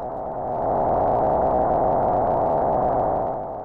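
A steady tonal hum with a slightly wavering pitch, loud and continuous, swelling in at the start and fading slightly at the end.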